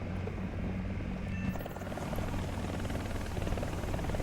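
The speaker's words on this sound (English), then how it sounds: "That's a nice helicopter, by the way. Mi-8 AMT-SH-BN." An Mi-8 AMT-SH-BN helicopter in the War Thunder game flies with a constant whirring rotor drone and a dense engine roar, steady and close, with no breaks for the whole stretch.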